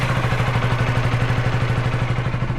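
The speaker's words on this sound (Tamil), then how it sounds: "வண்டியோட எக்ஸாஸ்ட் சவுண்டு தாங்க கேட்க போகிறோம்." A KTM Duke 250 motorcycle's exhaust runs loud and close, a steady throbbing engine note with rapid regular pulses and no speech over it.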